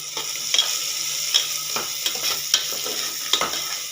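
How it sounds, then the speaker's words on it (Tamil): Onions fry in a pan with a steady sizzle, punctuated by rhythmic stirring scrapes and light utensil taps at close range. "வெங்காயம் சீக்கிரம் வேகு, எவ்வளோ நேரம் வேகுகிறாய்?"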